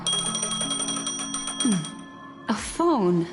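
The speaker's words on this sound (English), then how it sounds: "A phone." A phone ringing in the video game Honkai: Star Rail, a repeating bell-like tone over a steady musical bed, with brief game voice sounds near the end.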